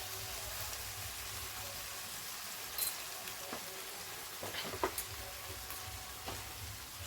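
Spiced crab curry sautés in a pan with a continuous close sizzle, broken by a few scraping stirs and soft clicks of a utensil, and no voices over it.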